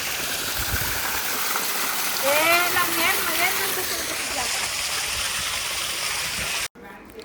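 Water flows steadily in an outdoor stream, a constant rushing wash throughout, with a voice speaking briefly over it and a faint whistling tone in the middle.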